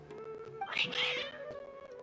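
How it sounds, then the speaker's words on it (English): Agitated domestic cats meow and caterwaul in Genshin Impact, a short burst of strained, rising cries over a quiet game soundscape, with a faint voice in the background. "Your cats seem pretty worked up."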